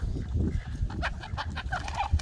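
Chickens clucking close by, a rooster's throaty calls mixed in with scattered short clucks and squawks, no talking.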